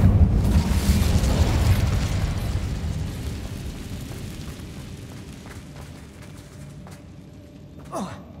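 A fire spell cast in Hogwarts Legacy: a loud, rumbling whoosh of flame that starts strong and slowly fades over several seconds, ending in a brief sharp flare.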